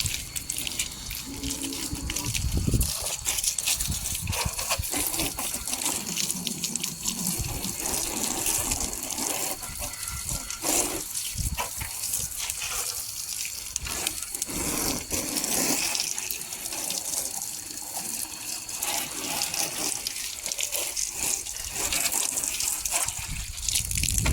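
Water gushes and splashes steadily against a vehicle being washed, a continuous spraying rush like a hose running, with no talking.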